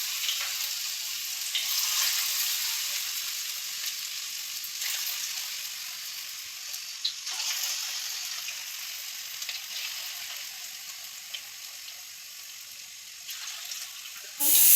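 Potatoes fry in hot oil in a wok, giving a steady, bright sizzle that runs the whole time, close and even, with occasional faint stirring scrapes and no voices.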